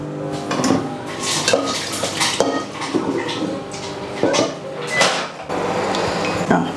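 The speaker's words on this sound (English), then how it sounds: "it's taken over 10 minutes just to whisk this all together" Sponge cake batter whisked by hand in a bowl for a fruit jelly cake, a busy run of rapid scraping and clinking strokes against the bowl, close and fairly loud, with no talk.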